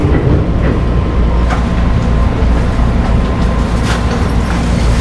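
The Walahar train stands at Cikarang station in Indonesia, its loud, steady rumble filling the space with a few faint clacks and thumps on top.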